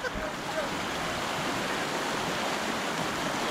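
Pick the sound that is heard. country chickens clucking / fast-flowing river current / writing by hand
fast-flowing river current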